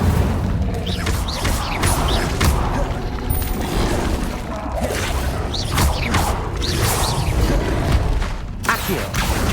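Fire spell casts from the Hogwarts Legacy game, several whooshing bursts with mechanical crackles repeating every second or so, loud and close, with a voice speaking over them.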